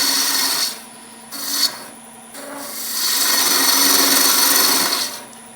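A spindle gouge cuts a taper into a wooden spindle on a wood lathe, producing a loud, close, rasping hiss in two short bursts and then one longer sustained cut, with no talking.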